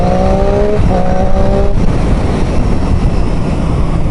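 A Triumph Street Triple 675 motorcycle pulls hard on the road, its engine loud and close as it revs up and then drops and rises again in a quick clutchless gear change, with rushing wind noise that stays constant underneath.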